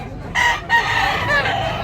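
A rooster crows close by, a loud rasping call over about a second and a half, with faint background noise.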